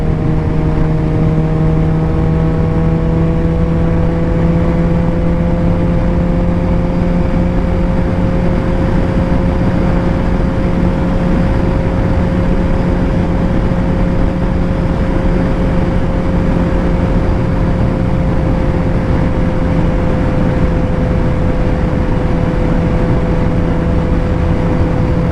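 A Suzuki GSX-R 750 motorcycle engine drones steadily while riding, a loud continuous hum with a slowly shifting pitch over rushing wind noise, close and unbroken throughout with no talk.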